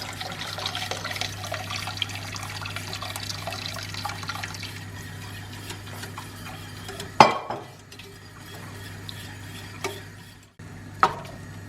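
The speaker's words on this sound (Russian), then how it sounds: "И сейчас добавляю бульон куриный, сразу же все сюда, хорошо перемешиваю." A spoon stirs chicken broth into a pot of Turkish Arabaşı soup with soft liquid sloshing and swirling, then a few sharp clinks against the pot.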